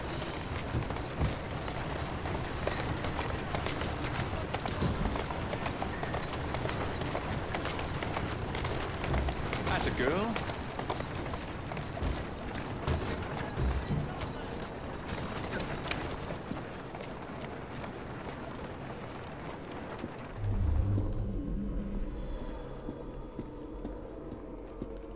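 In Assassin's Creed Syndicate, a horse-drawn carriage runs at speed through London streets, its hooves drumming in a constant galloping clatter under street bustle, with a voice speaking over it.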